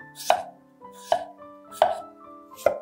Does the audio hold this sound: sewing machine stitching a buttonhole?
no